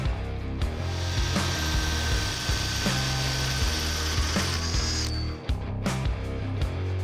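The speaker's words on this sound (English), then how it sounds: "Then we can go drill those out." A power drill bores holes for tube clamps in the bumper of a Toyota 4Runner being built into an off-road overlander, giving a continuous loud grinding, ratcheting whir broken by brief pauses and pitch shifts.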